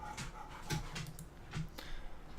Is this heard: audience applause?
no